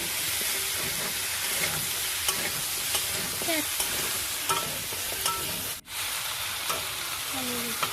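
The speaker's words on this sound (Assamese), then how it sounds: "আলুখিনি এতিয়া মিক্স কৰি দি দিম।" Potatoes being stirred into a pigeon and tomato curry in a pan, with steady scraping and sizzling close by and short clinks from the utensil against the pan.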